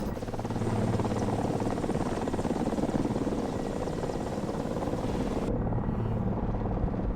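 A Ka-29 helicopter in the War Thunder video game drones steadily, its engine and rotor producing a loud, continuous whirring chop with a fast rhythmic beat, heard close and alone with no talk.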